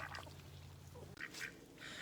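Ducks quack in short bursts while foraging outdoors near laying hens, several nasal calls at moderate distance over a low hum.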